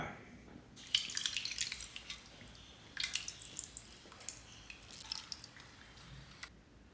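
Tamarind is squeezed by hand in water in a home kitchen, giving soft wet squishing and dripping sounds in bursts, close and fairly quiet.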